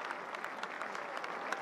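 A crowd at a Colgate vs Syracuse college lacrosse game applauds an injured player, steady clapping from many hands that sounds fairly distant, with faint talk beneath.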